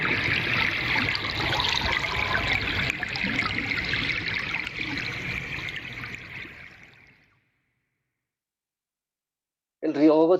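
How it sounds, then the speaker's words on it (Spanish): The Bogotá river flowing: a steady, dense rush of running water for about seven seconds that tapers off into silence, followed by a brief burst of speech at the end. "el sonido del río es el mismo de su respiración"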